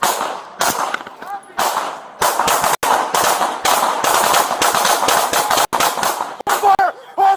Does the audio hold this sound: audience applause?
no